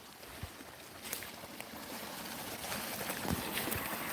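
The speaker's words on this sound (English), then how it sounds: "So this is the water running down to my dry creek bed." Faint, steady trickle and gurgle of rainwater flowing out of a dug hole into a dry creek bed outdoors, a quiet rushing wash with a few soft splashes that swells slightly toward the end.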